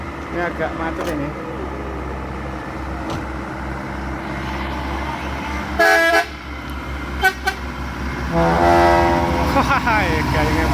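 A Basuri bus sounds its musical telolet horn on the Sambeng uphill road in Gunungkidul, Indonesia: a short melodic burst, then a longer tune near the end, loud over a steady rumble of engines and traffic.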